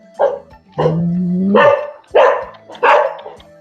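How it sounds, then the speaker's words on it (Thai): A dog barks repeatedly at close range near an old wooden monk's dwelling at a Thai temple, giving five loud, uneven barks, one drawn out into a whining howl, with no talk. "โอ้ยอย่าเห่าลูกอย่าเห่า"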